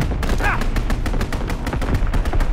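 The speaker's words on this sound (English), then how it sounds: "Strafing run inbound." Strafing-run gunfire from a World War II shooter game, a dense, loud barrage of rapid overlapping shots and booms that continues without a break.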